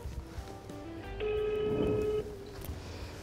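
Mobile phone placing a call to a contact: a steady electronic ringback tone with harmonic overtones holds for about a second at moderate level, with faint background noise before and after.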